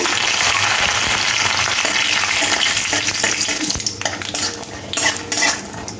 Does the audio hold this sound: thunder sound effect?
no